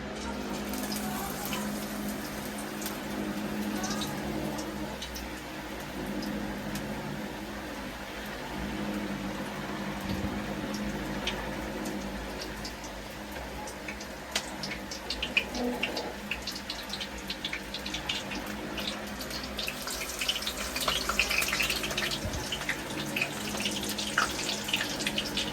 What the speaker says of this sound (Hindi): एबे हमें लंका पकेइदा गरम तेल रे।